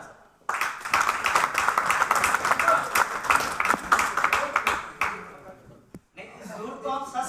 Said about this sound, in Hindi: अब आइए एक बार जोरदार ताली से।